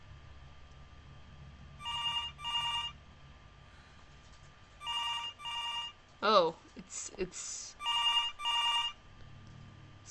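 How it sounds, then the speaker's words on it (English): A work phone rings in the horror video game Araya, sounding in paired bursts of ringing repeated several times. Someone speaks briefly between the rings, and a low ambient hum sits underneath. "it's the work phone."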